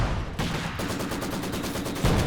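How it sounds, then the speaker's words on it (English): An artillery barrage lands in a Company of Heroes 2 2v2 battle: loud, dense rolling explosions and rapid gunfire crackle pile up without a break, with a heavy burst near the end. "Now there's this barrage coming in as well."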